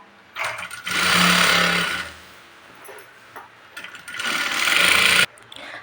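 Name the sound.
sewing machine stitching buckram on a patiala salwar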